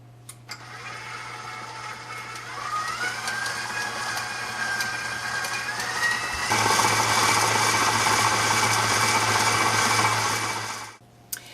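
An electric stand mixer creams butter for shortbread, a steady motor whir that rises in pitch partway through and runs loud and continuous for about ten seconds before cutting off, with no talking.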